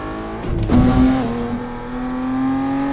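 Racing car engine in the driving game Assetto Corsa, a steady tonal drone that swells briefly as revs climb, then settles into a sustained hum, loud and close with no talk.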